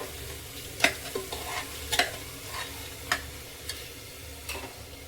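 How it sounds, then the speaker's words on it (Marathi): Soaked masoor lentils are stirred into onions frying in oil, with a soft sizzle underneath and about half a dozen distinct scraping strokes of the spoon against the pan, close by and without voices. "या कांद्यामध्ये आपण मसुरा टाकून हलवून घ्यायचं आहे."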